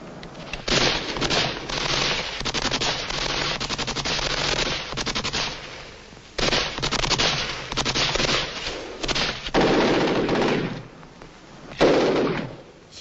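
Machine gun fire from a guerrilla position on a hilltop in an Albanian war film rattles in dense, loud bursts, broken by brief pauses and scattered shots, with battle noise and no talking.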